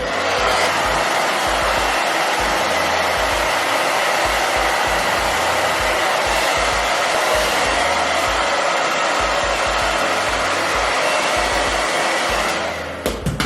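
A hair dryer blows continuously up close while a brush straightens curtain bangs, a loud steady whoosh that wavers slightly as the airflow moves and cuts off near the end.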